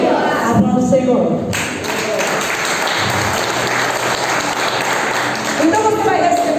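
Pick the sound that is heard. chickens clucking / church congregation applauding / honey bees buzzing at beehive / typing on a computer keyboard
church congregation applauding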